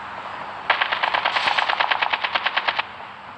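Automatic gunfire in the mobile video game Call of Duty Mobile, a rapid burst of about twenty evenly spaced shots lasting two seconds, loud and close, with no talk.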